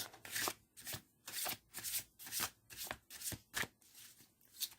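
A deck of cards is shuffled again and again, each riffle a crisp fluttering burst followed by a short pause, close and clear in a quiet room.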